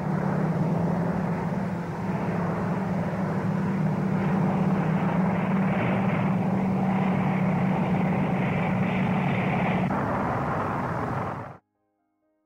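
Steady, loud propeller aircraft drone of a mail plane approaching the island of Santa Maria to land, holding a constant engine tone throughout before cutting off abruptly near the end.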